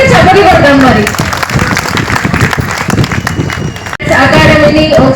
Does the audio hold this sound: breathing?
no